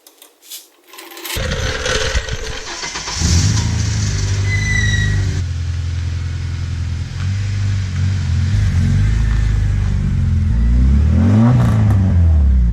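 A loud, raw VTEC car engine with its muffler removed rumbles and revs, a rough unmuffled roar that holds steady, then climbs and falls in pitch near the end.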